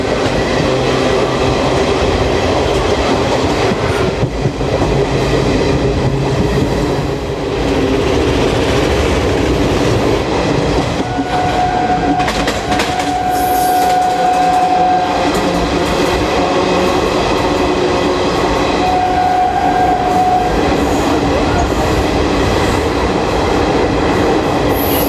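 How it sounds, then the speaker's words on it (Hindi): A MEMU train passing by, a loud continuous rumble of rolling wheels and rail clatter with brief high squeals and tones, sustained throughout without speech. "मेमू ट्रेन है कोई"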